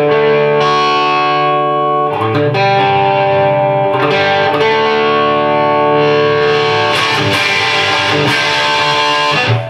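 A Gibson Les Paul Custom electric guitar with its volume rolled back plays sustained chords and single notes in a fairly clean, ringing tone with some reverb, loud and up close, with no talking.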